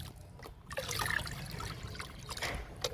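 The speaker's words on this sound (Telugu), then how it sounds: "ఇప్పుడు ఈ లిక్విడ్ని మొక్కలకి ఇచ్చేద్దాము." Homemade liquid fertilizer trickles and splashes onto garden plants, a soft, close pouring dribble that runs for a few seconds with no talking.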